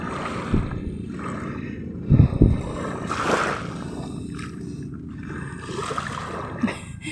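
Fishing boat motors run along a beach in Batangas, a steady low engine drone with water noise, swelling in a few louder bursts near the middle and again toward the end.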